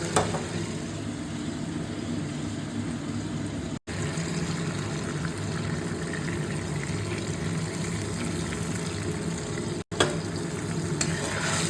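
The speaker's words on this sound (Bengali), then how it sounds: "সর্ষের জলটা দেবো এর মধ্যে ফুটুক" Mustard-seed water with turmeric simmers in oil in a pan, a steady close hiss and crackle of bubbling and sizzling that runs continuously with brief interruptions.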